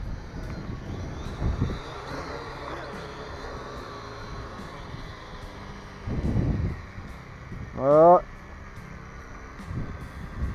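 A Cheerson CX35 FPV drone lands automatically outdoors in strong wind, its motor whine a steady high drone that winds down, with wind buffeting and someone talking intermittently over it.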